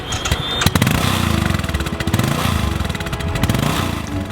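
A 2015 Royal Enfield Continental GT motorcycle's single-cylinder engine runs close by with a loud, pulsing thump, a rapid rhythmic chug that opens after a few sharp bursts.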